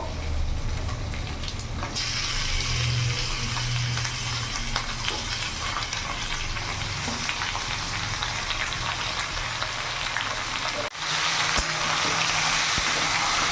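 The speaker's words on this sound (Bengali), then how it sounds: "ভালো করে নাড়াচাড়া করে কিছুক্ষণ ভেজে নেব" Loud, steady sizzling of chicken frying with onions in a hot pan, continuous throughout with crackling pops and a brief dip near the end.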